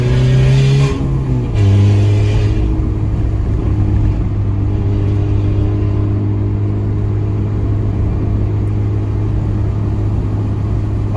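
A Peugeot 206 1.4 accelerates with an onboard view of the exhaust, a loud droning engine note that climbs then holds a steady rumbling pull, with no talking.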